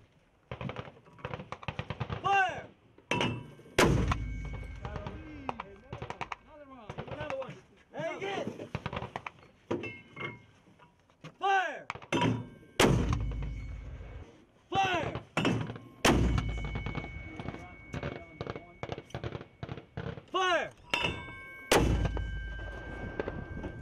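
120mm heavy mortars fire in repeated loud booming thumps with sharp blast transients and rumbling tails, spaced a few seconds apart, while crew members shout commands between shots.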